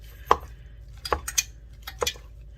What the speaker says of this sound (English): I'm just going to start mashing my potatoes with the butter in there